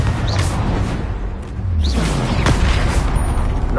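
Explosive Confringo spell blasts in the Hogwarts Legacy video game, with dull booms and whooshing bursts rising out of dense, continuous battle noise throughout.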